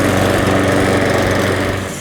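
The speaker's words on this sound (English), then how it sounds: "That's the Cobra M46C, which is an 18-inch petrol mower." A Cobra M46C 18-inch petrol lawn mower running right after starting, its small engine giving a loud, close, steady drone with a fast even pulse.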